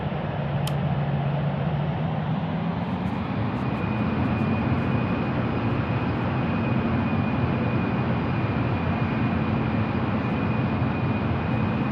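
A Garuda Indonesia Boeing 737-800 taxiing toward the runway: a steady, loud jet engine drone with a constant whine heard from inside the cabin, unbroken throughout with no talk.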